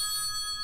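A telephone bell rings steadily in a 1972 Spider-Man audio drama, a bright sustained tone near and alone.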